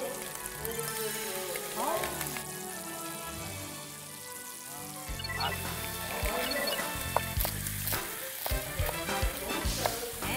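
Chicken and sausage sizzle and crackle in a pan for jambalaya, with a steady frying hiss and occasional stirring clatter, while people talk faintly over the cooking.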